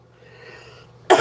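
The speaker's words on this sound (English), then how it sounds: "I got a cough somewhere." During a live online jewelry auction, one sharp cough bursts out right at the end after a near-silent pause with only faint room hum.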